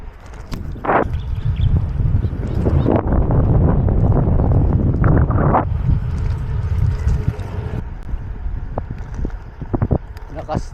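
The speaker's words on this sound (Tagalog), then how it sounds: "Lakas ng hangin," Strong wind buffets the microphone in a steady low roar near hilltop windmills in northern Luzon, with a few brief knocks and rustles; no voices stand out.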